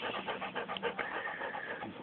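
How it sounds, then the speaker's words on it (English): Puppy panting quickly in a garden, soft rhythmic breaths close by and fairly faint, with no talk. "panting for his life."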